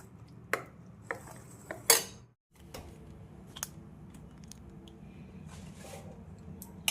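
A spoon stirs and mixes salted, sugar-free patishapta batter in a bowl, giving faint scraping with scattered sharp clinks against the bowl, quiet and close.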